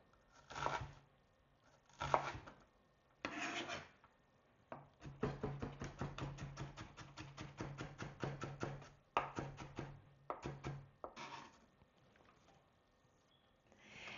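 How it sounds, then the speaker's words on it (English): A knife chops an onion on a cutting board in rapid, steady strokes, loud and close, with short bursts and pauses between runs of chopping. "Keep your fingers back and chop."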